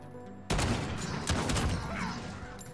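Video game gunfire erupts after a brief quiet moment, a close, loud burst of rapid rattling shots followed by a few more sharp cracks.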